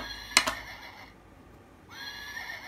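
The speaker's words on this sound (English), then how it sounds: "It's a horse." A horse on a farm whinnies loudly in a short, shrill burst near the start, then there is a quiet pause before a second, softer whinny follows.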